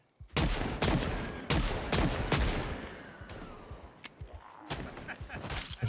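Gunshots in the zombie survival game Project Zomboid: a run of loud, sharp cracks in uneven succession, tapering into scattered fainter shots.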